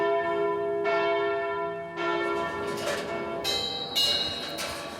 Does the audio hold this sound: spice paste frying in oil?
no